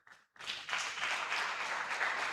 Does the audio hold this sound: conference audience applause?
yes